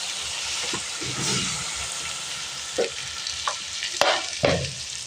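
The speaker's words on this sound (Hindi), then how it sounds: "सिरके का डाल के इसको अच्छी तरह हिला दें और फ्राई होने दें" Bitter gourd fries in hot oil with vinegar added, a steady sizzling hiss broken by a few scraping stirs of a spoon in the pan.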